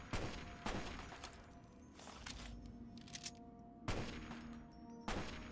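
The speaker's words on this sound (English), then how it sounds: "Jesus Christ, what are you shooting at?" Gunfire in Fallout 3 from a raider fight, with bursts of shots at the start, midway and near the end over a steady, noisy backdrop.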